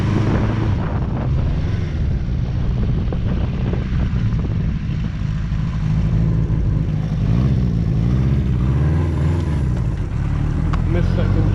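A cheap used motorcycle riding down the road, its engine a loud continuous drone with shifting pitch and heavy wind buffeting the microphone; a rider talks over it at points.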